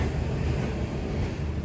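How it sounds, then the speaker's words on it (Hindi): Green Line Express train arriving at Khanewal Junction station, heard from on board as a steady, fairly quiet low rumble of wheels and carriage noise with no clear clatter or braking, no voices. "तो फाइनली ट्रेन हमारी पहुंच चुकी है खानेवाल जंक्शन रेलवे स्टेशन पर"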